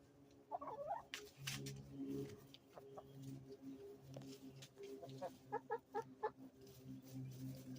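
A small flock of hens clucks and murmurs near and far in a backyard, with short bursts of sharper calls and pecking sounds scattered through the clip.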